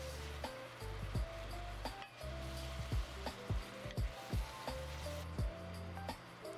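Chicken pieces fry in a pan for Filipino adobo, a continuous loud sizzle with bursts of spattering and scraping from stirring, over a low musical background.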